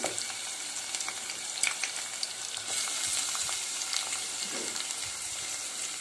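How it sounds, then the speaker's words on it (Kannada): Chopped tomato and fenugreek leaves fry in a hot tempering for fenugreek-leaf rice, giving a steady close sizzle with brief stirring scrapes and crackles throughout, no talking. "ಇವಾಗ ನಾವು ಹೆಚ್ಚಿಟ್ಕೊಂಡಿರೋ ಟೊಮೊಟೊ ಮತ್ತು ಮೆಂತ್ಯ ಸೊಪ್ಪನ್ನು ಇಲ್ಲಿ ಏನು ಮಾಡ್ತಾ ಇದ್ದೀನಿ ಸೇರಿಸ್ತಾ ಇದ್ದೀನಿ"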